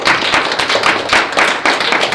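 A small audience at a Prague Pirate Party regional meeting claps in brief, uneven bursts, close and fairly loud, with pauses between rounds of applause.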